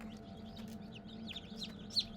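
Newly hatched chicks fresh from an incubator on a small poultry farm, a quiet cluster of high peeping chirps scattered over a low steady hum, with one brighter cheep near the end.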